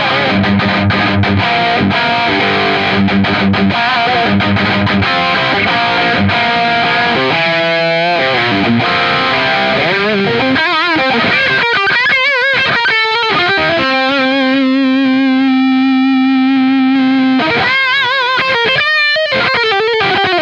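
Distorted electric guitar lead playing through an Axe-Fx modelled Mesa Mark IV amp with an FAS boost drive in front, set to drive all the way down and level all the way up. The saturated, sustained lines play alone and loud, with held bends and sustained notes.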